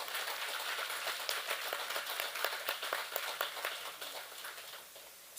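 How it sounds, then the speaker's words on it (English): A crowd at a Hanuman Jayanti celebration gives a round of applause, with quiet, fairly distant clapping rattling steadily for several seconds before fading. "you deserve a round of applause"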